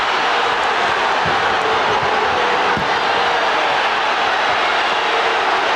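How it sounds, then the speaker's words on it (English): A large basketball arena crowd at the 1993 NBA Finals in Phoenix, Bulls against Suns, sends up a dense, steady roar that stays loud and even throughout, with no commentary heard over it. "Crowd reacting."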